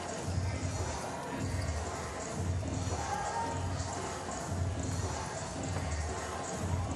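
A crowd at a freestyle football world final makes noise in swelling waves of cheering and shouting, with rhythmic thumps running beneath the din.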